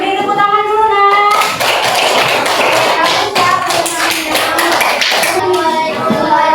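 Children in a classroom applaud a presenting group, with dense, loud clapping and taps. Children's voices and a sung tone are heard over it.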